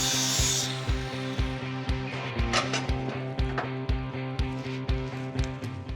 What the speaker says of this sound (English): We cut out a 39 by 3 1/4 inch piece of 3/16 steel, cleaning up the edge with a grinder.